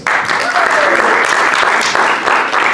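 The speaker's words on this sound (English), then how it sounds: "Let's have a round of applause for James." An audience at an evening talk breaks into loud, sustained applause for a presenter coming up front, a dense wash of clapping that holds steady for nearly three seconds.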